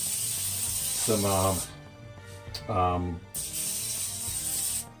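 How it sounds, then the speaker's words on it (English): Two bursts of cooking spray hiss from an aerosol can onto a whole raw chicken, steady and fairly close, with a sizzling background and faint voice harmonics between bursts. "spray, cooking spray."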